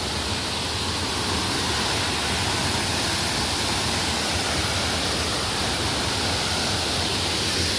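Sitobo Falls in Tampilisan roars as a dense, steady broadband rush of falling water, loud and unbroken throughout with no talk.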